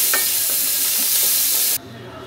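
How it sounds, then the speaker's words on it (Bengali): Spinach frying in a pan and being stirred: a bright sizzling hiss with a few scraping stir strokes, close and continuous until it cuts off abruptly near the end. "এখন ভালো করে নাড়াচাড়া দিয়ে দিতে হবে।"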